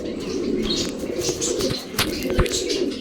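Pigeons in a pigeon loft coo in a low, continuous murmur while wings flap in short bursts and a few chirps sound nearby.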